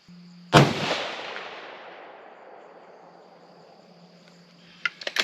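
A Savage 110 Desert Tactical rifle in 6.5 Creedmoor fires a single loud shot that rolls away in a long outdoor echo over a steady cricket chirp, followed by a few sharp clicks near the end.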